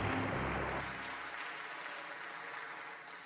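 A crowd at a Gundam model building world championship awards ceremony claps steadily, loud at first and then thinning to a softer, continuing patter.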